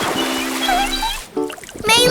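Cartoon children splash around in water on a sunny day, a brief burst of splashing mixed with bright music and a voice.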